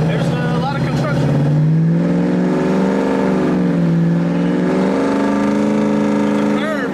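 A 2000 HP boosted Ford Coyote V8 street car accelerates on a public street during a transmission test, engine pitch climbing and dipping through shifts, loud and close from inside the car.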